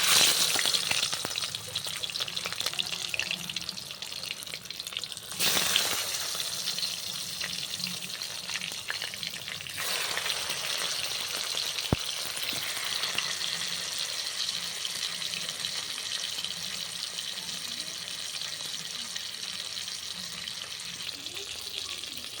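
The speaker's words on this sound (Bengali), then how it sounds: "কড়াই এখানে গরম হয়ে গেছে আমি এবারে আস্তে আস্তে মাছগুলোকে ছেড়ে দেবো" Rohu fish pieces are eased one by one into a hot wok, bringing soft hissing frying with brief louder bursts as each piece goes in, heard faintly from close by.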